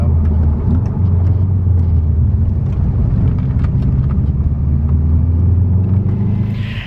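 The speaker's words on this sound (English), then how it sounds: "I'm really happy I finally got the car to run" A Subaru WRX Bugeye project car's engine idling close by, a loud, steady low rumble that stays even throughout before easing slightly at the end, with no talking.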